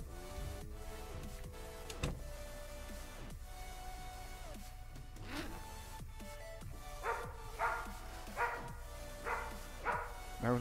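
A dog attacking in Project Zomboid, with a series of barks and snarling yips over a droning game background, growing more frequent and sharper toward the end.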